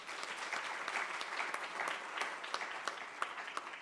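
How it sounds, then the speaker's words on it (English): An audience at the G20 Africa Investment Summit applauds steadily, a dense field of many hands clapping at moderate distance, sustained evenly throughout without any voices. "I think they deserve a round of applause."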